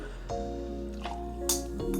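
Tonic water poured into a glass, a short bubbly trickle with a few wet splashes and a brighter fizzing burst near the end, close and fairly quiet.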